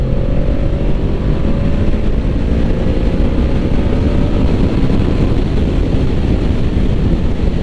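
A Yamaha Vmax motorcycle pulling hard at half throttle, a loud, continuous engine roar mixed with heavy wind rush, heard from the rider's position.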